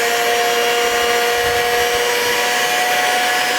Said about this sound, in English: So I'm going to whisk it. Whisk the butter and the eggs.